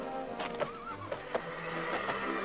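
Horses at a roundup on a Nebraska ranch: a horse whinnies with a wavering call, while a few sharp hoof-like knocks land around it over a steady hum.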